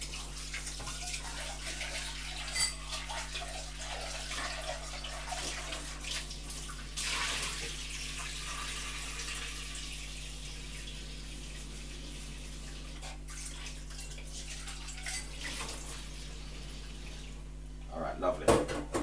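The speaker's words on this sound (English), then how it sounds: "in the meantime I'm gonna rinse up my pot" A pot is rinsed under a running tap, steady close water flow and splashing that swells briefly midway over a low background hum.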